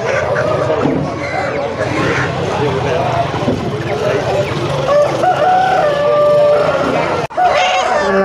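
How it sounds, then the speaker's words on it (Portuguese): Roosters crow and chickens cluck amid a busy poultry market din in Cachoeirinha, Pernambuco, Brazil, with people talking nearby throughout. "Aí, aqui é galinha."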